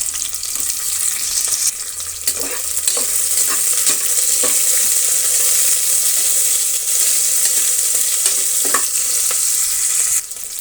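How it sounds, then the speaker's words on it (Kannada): Chopped onions sizzling in hot oil with cinnamon and fennel seeds, a steady bright frying hiss punctuated by scraping stirs and clinks of a spoon against the pan. "ಸ್ವಲ್ಪ ಸೋಂಪನ್ನು ಹಾಕಿ ನಾವು ಫ್ರೈ ಮಾಡೋಣ. ಈಗ ಅದರ ಜೊತೆಗೆ ಈರುಳ್ಳಿ ಕಟ್ ಮಾಡಿರೋದನ್ನು ಸೇರಿಸೋಣ"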